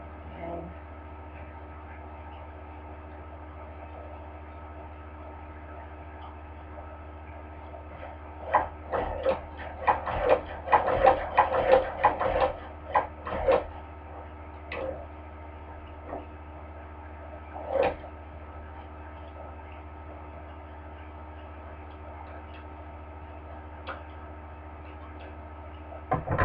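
A hand crank cobbler sewing machine stitches back and forth to lock stitches, giving a busy rhythmic ticking and clattering cluster in the middle over a steady mechanical hum, with isolated clicks later.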